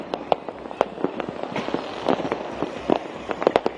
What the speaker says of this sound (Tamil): பட்டாசுகள் இன்னைக்கு காலையில இருந்து தொடர்ச்சியா வெடிச்சுட்டு தான் வர்றாங்க